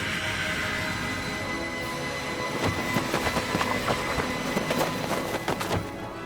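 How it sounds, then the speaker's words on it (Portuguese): Night train arriving at a station in a horror animation, a steady rumble building into loud rhythmic clickety-clack of wheels with faint metallic squeal, no voices. "de repente apareceu o comboio noturno"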